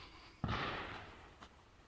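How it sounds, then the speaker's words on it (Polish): Firecrackers set off somewhere near an abandoned military unit, heard from a distance outdoors as one dull bang followed by a rumbling echo and a fainter second pop, with no talk. "tam ktoś strzela petardami"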